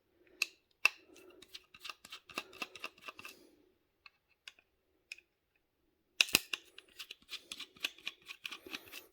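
Small screws are worked out of a Ring doorbell camera's circuit board, giving quiet, sharp clicks and ticks in irregular bursts with a short pause midway.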